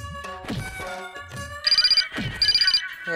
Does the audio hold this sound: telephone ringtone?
yes